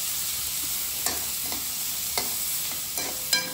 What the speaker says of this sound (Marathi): कांदा ब्राऊन होईपर्यंत भाजावा.